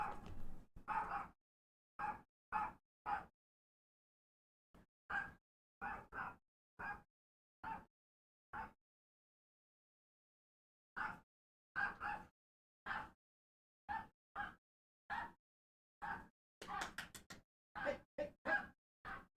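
Several dogs bark in short, sharp bursts, loud and close, clustering into rapid volleys separated by brief silences, with one yelping whimper near the end.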